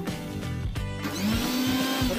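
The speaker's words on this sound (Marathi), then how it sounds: "आपण हे आता मिक्सरमध्ये फिरवून घेऊया।" A kitchen mixer grinder churns mango and sugar for piyush, a loud steady motor whine that rises into a higher, smoother hum as the blades spin up, close and alone.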